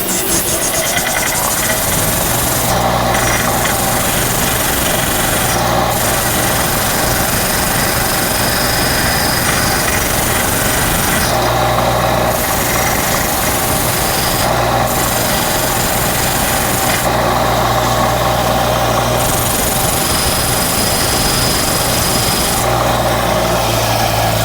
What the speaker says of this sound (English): I'm going to run to the belt sander because this will take a fraction of the time.